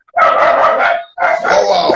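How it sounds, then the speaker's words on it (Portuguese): A pet female dog barks loudly and close, two drawn-out barks separated by a brief pause, with no other sound around them. "Minha cachorra latindo pros outros."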